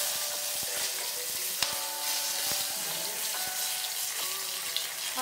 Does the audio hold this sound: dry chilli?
yes